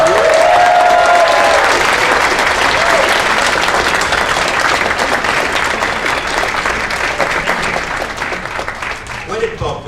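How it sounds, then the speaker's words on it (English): An audience at a voice-actors convention panel in Dallas gives a loud round of applause with some cheering, dense clapping that starts strong and slowly tapers over about ten seconds, with a voice briefly heard over it at the start. "Big round of applause for all the kids who turned out."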